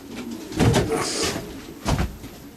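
Long-distance racing pigeons coo in a couple of soft, throaty bursts inside a loft, with faint shuffling and rustling around them at close range.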